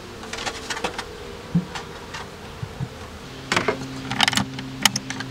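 Honeybees buzzing nearby in scattered bursts, with faint clicks and handling noises; the buzzing swells louder toward the end.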